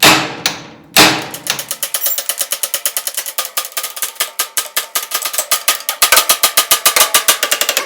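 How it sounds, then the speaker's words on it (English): Ball peen hammer striking a bolt on a Massey Ferguson TO35 tractor, a few heavy opening blows followed by a long, fast run of sharp metallic hits, close and loud. "Take you a hammer, ball peen or something, whack it"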